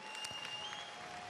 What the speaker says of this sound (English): Ladies and gentlemen, a round of applause for both boxers who gave everything.